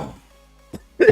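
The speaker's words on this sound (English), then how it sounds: "yawn stretched so much that I made myself cough." A quiet pause with faint background is broken by a brief catch, then a sharp, short cough close to the microphone following a big yawn.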